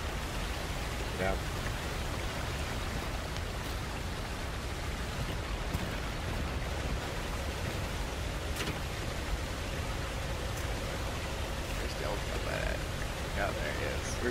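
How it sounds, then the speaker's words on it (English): A waterfall in the Star Wars Rise of the Ewoks game rushes as a constant, even wash of noise throughout, while players speak briefly over it. "Look at the waterfall."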